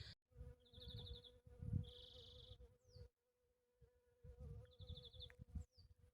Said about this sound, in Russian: Уже пчелка летает.